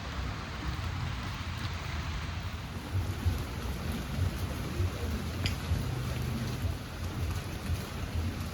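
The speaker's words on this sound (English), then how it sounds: "Rainy night in Siargao" Steady rain falls through the night in Siargao, a dense, even patter with occasional low rumbles beneath it and no voices.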